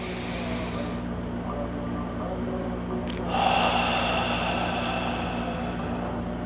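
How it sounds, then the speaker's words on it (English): A long, deep exhale during a qigong breathing exercise, air steadily pushed out as a soft, continuous breathy hiss that rises briefly midway, heard close over a constant low background hum. "Gently pulling the abdominal in to squeeze all the air out."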